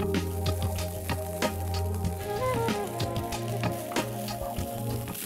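Cooked rice hitting a hot pan of dal, garlic, green chili and cashews, with steady sizzling and frying crackle under faint background music, continuous throughout with a few scattered sharper pops.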